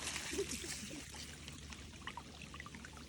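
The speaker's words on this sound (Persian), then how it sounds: "آب اومد." Water starts to flow and pours in a soft, continuous trickle and splash, faint and nearby, with no talking.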